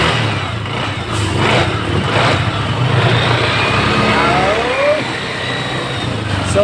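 After a fuel pump motor repair, a car engine runs at a steady idle, making a loud continuous mechanical drone with a slight rise in revs partway through, close by with little talk.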